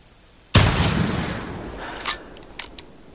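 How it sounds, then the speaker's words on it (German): A single loud .308 handgun shot in the hunting video game The Hunter cracks suddenly and rolls off in a long, fading echo, followed by a few faint, brief sounds. "Das war, glaube ich, nicht so der beste Schuss."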